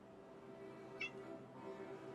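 A single short cat meow cuts through a quiet room with a steady low hum, brief and moderately close.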